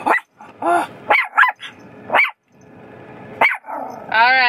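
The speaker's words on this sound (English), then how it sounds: "there's a dog in there." A dog barks and yips in several short, loud bursts near a car heading home from a vet visit. Whiny, growl-like tones run between the barks over a steady low hum.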